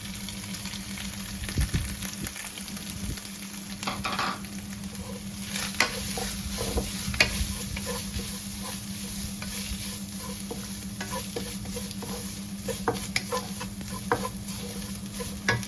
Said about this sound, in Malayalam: നന്നായി തീ കുറച്ച് വെച്ചിട്ട് ഇളക്കുക അതിലോട്ട് വേപ്പിലിട്ട് കൊടുക്കുക